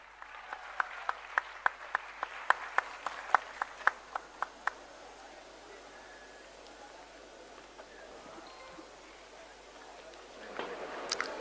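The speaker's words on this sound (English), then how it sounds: "Please give a huge round of applause." A few people clap at a ceremony honoring young achievers, giving separate, distinct claps that slow and fade within five seconds, followed by quiet room tone and a brief rustle.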